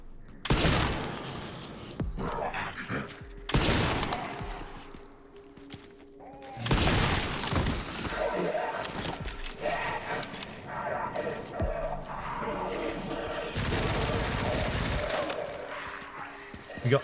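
Enemies open fire in the video game Resident Evil Requiem: bursts of rapid gunfire come in clustered volleys with heavy thuds between them, loud against a murky game soundscape with a voice at times.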